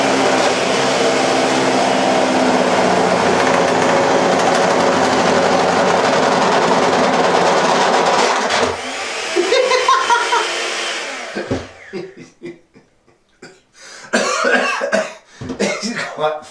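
A food mixer whirs loudly and steadily for about eleven seconds while blue balloons are held to it, then cuts out, leaving scattered short knocks and rustles.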